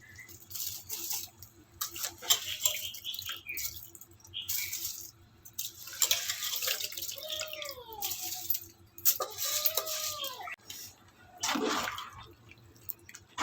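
Soaked rice for a vegetable biryani goes into a pot of boiling water. Uneven splashes, drips and wet pours come in bursts, near and fairly quiet, with faint clinks and a low background hum.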